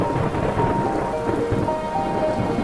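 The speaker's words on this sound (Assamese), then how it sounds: "বৰষুণ দিছে।" Steady, heavy rain pours continuously, with low thunder rumbling underneath throughout; loud and close, with no voices.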